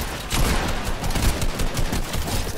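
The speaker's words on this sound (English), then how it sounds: "someone's shooting at him up there" Rapid bursts of Fortnite gunfire crackle steadily through the whole stretch, loud and dense like sustained automatic shooting, with no voices over it.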